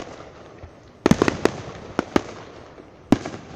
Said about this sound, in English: That means I'm getting a lot of footage of these fireworks.